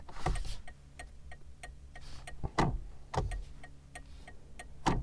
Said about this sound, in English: there are some noises I do like, such as this, the indicator click.